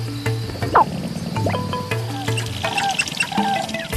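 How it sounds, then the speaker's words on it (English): Male sharp-tailed grouse call on a Great Plains breeding ground at a cold sunrise, giving overlapping clucks, coos and croaking notes in irregular bursts, close and fairly loud. "A cold sunrise across America's Great Plains marks the peak of the breeding season for sharp-tailed grouse."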